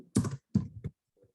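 Typing a sheet name into a spreadsheet on a computer keyboard: three quick, close clusters of keystrokes, then a faint final tap and silence.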